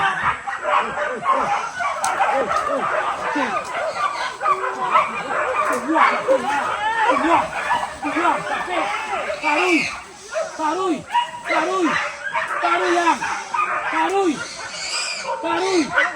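Hunting dogs bark and yip continuously during a wild boar hunt, many rapid overlapping barks close by with whimpering yelps mixed in and people shouting under them.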